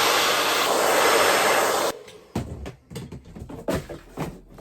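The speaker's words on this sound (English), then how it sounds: "I'm gonna blow dry" A blow dryer blasts loudly and steadily on hair during a wig styling, then cuts off abruptly, leaving scattered clunks and handling noises.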